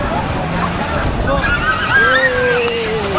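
Sea waves surging and washing onto the beach at Cox's Bazar, a steady close roar of surf with wind buffeting the microphone, while voices call out over it.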